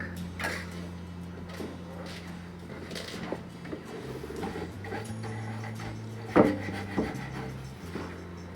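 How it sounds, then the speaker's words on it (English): A brush rubs furniture wax onto a thrifted wooden home decor piece, giving repeated scratchy strokes with a steady rhythm, near and moderately loud over a faint background hum, with one sharper knock partway through. "we're just going to rub that all on there"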